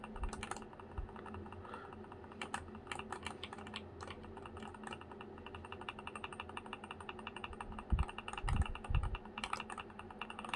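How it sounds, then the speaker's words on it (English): Rapid, steady clicking of a small BlackBerry Q10-style thumb keyboard on a HackberryPi handheld cyberdeck as keys are tapped to control a game, close and fairly quiet, with a few louder clatters near the end. "So now we can control it with my keyboard."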